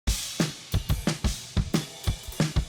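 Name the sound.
drum mix of the song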